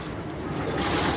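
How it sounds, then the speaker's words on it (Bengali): Big sea waves breaking on the shore at Cox's Bazar in rain, a steady broad wash of surf that swells slightly louder toward the end, heard alone without voices. "সাগরের বিশাল ঢেউ"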